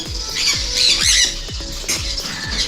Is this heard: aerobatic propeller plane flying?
no